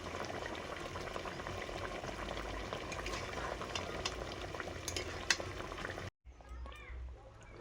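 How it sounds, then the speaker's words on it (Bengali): Rohu fish kalia simmers and sizzles steadily in a pan as ghee goes in, a dense bubbling hiss that cuts out briefly near the end before a fainter sizzle resumes. "এবারে দিচ্ছি ঘি"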